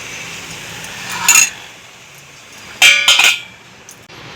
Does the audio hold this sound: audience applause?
no